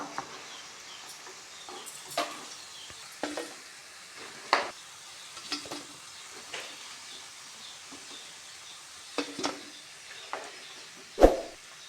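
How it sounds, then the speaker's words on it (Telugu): Frying for a pappu tomato cabbage curry in a pan, with a steady low sizzle broken by scattered sharp clinks and scrapes of stirring, one loud knock near the end, and no talking. "బాగా వేగాలండి లేకపోతే లోపల ఉడకదో కృషిగా ఉంటుంది"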